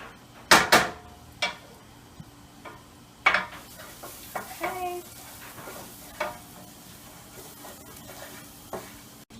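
Garlic frying in a pan at home, a soft steady sizzle broken by several sharp clanks and scrapes of a utensil stirring against the pan, fairly close with quiet gaps between strokes.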